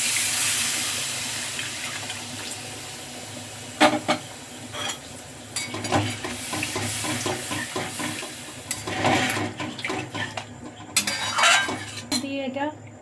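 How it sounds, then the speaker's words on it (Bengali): Water poured into a pan of shahi paneer curry cooked without onion or garlic, a running splash mixed with clinks of a spoon and pot, stirring and scraping noises close by. "এবার দিয়ে দেবো জল।"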